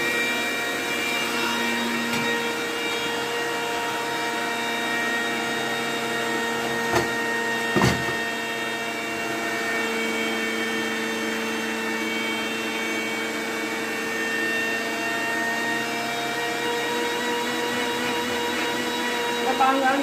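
Home machine churning cream into butter, a loud continuous motorized whir with steady tonal hum running throughout, broken by a couple of brief knocks.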